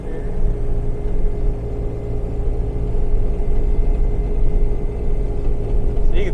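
A 2014 Bobcat Toolcat utility vehicle, set up for pushing snow, idles steadily with a low continuous engine rumble and a faint whine, close and loud throughout with no break.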